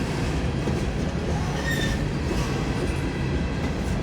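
A Montana Rail Link freight train pulled by six locomotives, led by unit 4303, rumbles past at Cole Road in a steady, loud, close roar of wheels and cars, with no talking.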